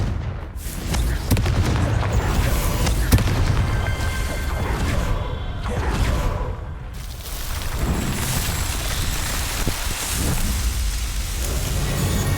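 Confringo explosive curse cast in a Harry Potter video game, a run of booming blasts and crackling debris over a continuous rumbling wash, loud and sustained across twelve seconds with repeated impacts.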